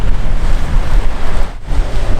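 Ocean surf breaking near a shoreline rock pool, a steady loud wash of waves mixed with wind buffeting the microphone, continuous with a brief dip in the middle.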